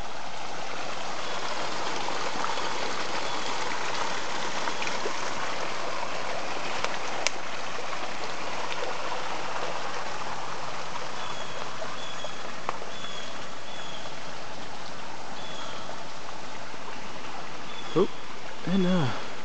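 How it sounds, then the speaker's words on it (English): Rain runoff trickles and burbles steadily like a small stream outdoors on an autumn day, a continuous close wash of water with a few faint bird chirps near the end. "A little bit of runoff."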